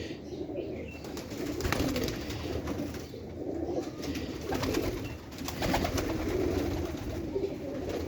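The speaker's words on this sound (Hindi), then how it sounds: "मियां साहब वाले कबूतर हैं, इन्होंने नाम दिया हुआ है इनको जादूगर ब्रीड।" Jadugar breed pigeons coo softly at a breeder's loft, low repeated rolling calls overlapping steadily at moderate distance.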